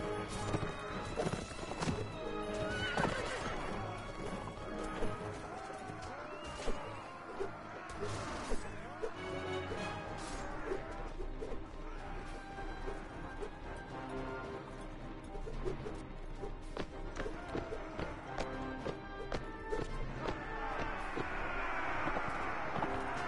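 Horses in a battle from the video game Revengeful Goddess Nadia keep up busy clip-clopping hooves and occasional whinnies amid crashes and clashing impacts, all continuous and fairly loud.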